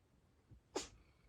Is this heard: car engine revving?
no